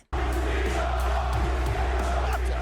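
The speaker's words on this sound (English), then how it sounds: "Crowd chanting, "F you, Cena."" Large wrestling arena crowd in 2006 chanting in unison, a loud steady roar of many voices with rhythmic swells of shouting that fills the whole space without a break.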